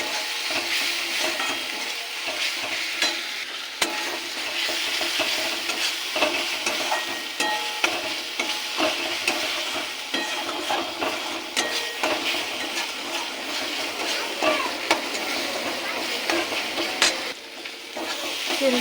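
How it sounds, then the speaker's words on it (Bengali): Spices being stir-fried in oil for pointed gourd dolma: ground cumin, chili powder, turmeric and salt sizzle steadily at close range with continuous stirring and occasional scraping clicks of a utensil against the pan, with no talking. "এই মশলাটাকে ভালো করে কষাবো।"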